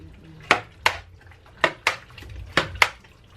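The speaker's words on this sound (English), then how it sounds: "now I'm going to mix this all up" Pasta bake ingredients are stirred in a dish with a utensil, six distinct scraping clinks at an uneven rhythm, close and fairly loud, with quiet gaps between strokes.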